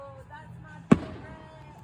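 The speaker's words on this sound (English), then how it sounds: "No one at home is going to be launching as many fireworks as this." A single loud firework burst booms from a small-town Fourth of July show in Harrison, Idaho, its crack and rumble decaying over a low crowd murmur.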